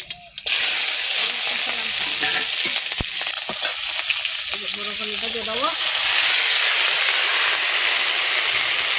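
Panch phoron spices, heavy on black cumin, hit hot oil in a home kitchen and burst into a loud, sudden sizzle. The hiss stays dense and close for several seconds, with faint clinks and stirring underneath.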